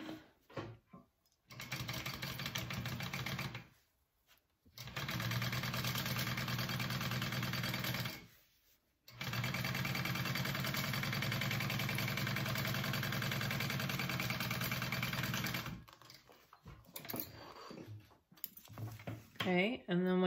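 A sewing machine stitches fabric pieces for a shoulder bag in several long runs of steady, close whirring, separated by brief pauses and ending in short stop-start bursts.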